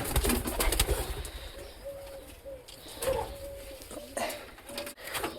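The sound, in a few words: pet pigeons cooing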